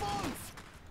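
Gunfire in the mech strategy game Iron Harvest: a sharp, loud shot bursts out at the start, then a rough, noisy tail fades over about a second.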